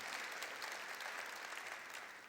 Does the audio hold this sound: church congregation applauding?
yes